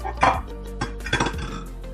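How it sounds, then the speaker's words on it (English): Chicken pot pie soup stirred in a pot, with a few soft scraping and clinking knocks of the utensil against the pot at a steady pace. "We're going to give it a stir."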